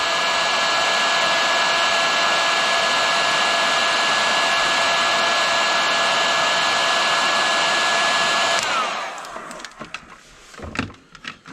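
A heat gun shrinks heat shrink tubing over the wiring of a 12 V LED moped headlight. A steady, loud blowing whine runs for about eight and a half seconds, then cuts off, leaving faint handling noises.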